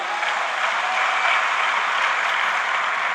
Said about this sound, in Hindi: एक बार जबरदस्त तालियां उनके लिए।